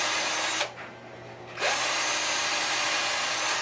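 Power drill boring tuner holes into a Les Paul Junior guitar headstock with a 5/64 inch bit, a loud close whine that stops for about a second and then resumes steadily.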